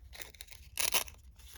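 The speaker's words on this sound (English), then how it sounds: "I'm going to cut it." Paper is cut for a collage journal cover. A short, crisp crunching snip rises in the middle of a faint, quiet stretch, with no talking.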